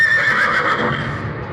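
A horse neighs loudly and close by as its rider dismounts, a long shrill whinny that wavers and fades, with faint hoof clops beneath.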